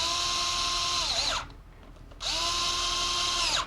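A small power gun runs clutch bolts down in two bursts of high-pitched whirring, each ending as the motor winds down and stops, close and loud with a brief pause between them.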